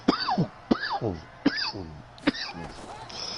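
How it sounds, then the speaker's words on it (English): A person coughs hard four times in quick succession, close and loud, each harsh burst separated by short pauses. "I'm about to cough up a goddamn lung over 6 here."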